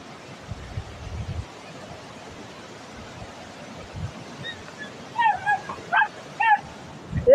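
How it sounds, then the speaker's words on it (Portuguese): A small dog yaps several times in quick, high-pitched barks from a short distance, following a stretch of quiet outdoor background noise. "Esse cachorrinho é barulhento"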